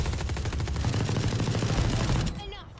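In a first-person shooter esports match, a grenade blast mixes with loud, dense rapid gunfire that ends in a brief fade, while a caster speaks over the action.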